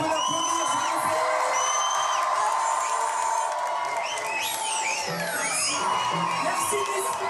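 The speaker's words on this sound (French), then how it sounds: "On peut l'applaudir s'il vous plaît." An audience cheers, whoops and applauds after a birthday song, with crowd shouts and high whistles layered over continuous clapping and some voices in the mix.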